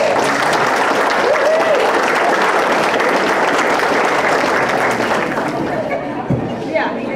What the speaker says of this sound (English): Let's give all our contestants another round of applause.